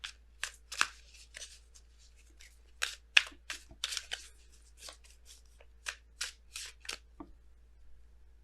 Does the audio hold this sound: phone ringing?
no